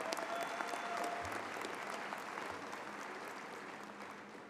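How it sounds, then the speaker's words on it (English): Sustained applause from a large audience fills a university dental school commencement ceremony, steady and dense throughout, heard from within the hall with no voices over it. "I expected that applause"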